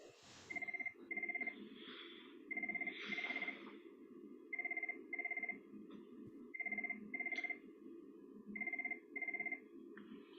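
A telephone rings on the bench in a courtroom with a repeating double-burst electronic trill, moderately faint, in regular pairs over a low background murmur and rustle.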